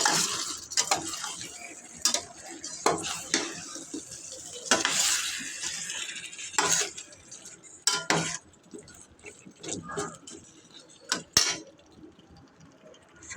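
Beef cooked with chui jhal being stir-fried (kosha) in a pan: sharp spatula clinks and scrapes against the metal in irregular bursts, over a faint, soft sizzle close by.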